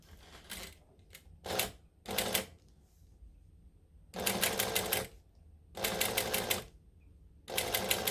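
Sewing machine stitching thick vinyl for a handbag, running in short bursts of fast, rhythmic needle clatter separated by quiet pauses, fairly faint.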